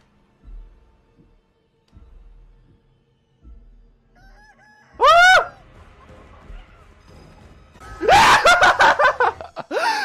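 Loud crowing and squawking calls of a giant chicken in a horror video game, two bursts standing out over quieter low thumps and game sounds.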